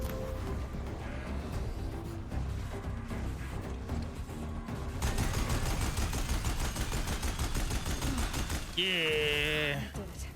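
An enemy machine in the video game Horizon Zero Dawn opens fire, with rapid, dense gunfire bursts taking over midway through a busy game soundscape, and a warbling electronic tone rising near the end.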